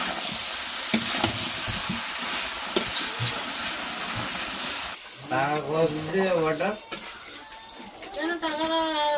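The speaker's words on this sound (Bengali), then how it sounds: "মাংসটা প্রায় কষা করা হয়ে গিয়েছে, আর অল্প একটুখানি নাড়াচাড়া দিয়ে জল ঢেলে দেবো।" Chicken meat sautés in a pan while being stirred, a sizzling hiss with sharp scraping clicks up close, and later a person talks over the frying.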